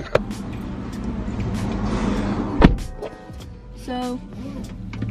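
Interior engine and road rumble of a car being driven, a steady low drone with scattered clicks and knocks, and a short mechanical whir toward the end.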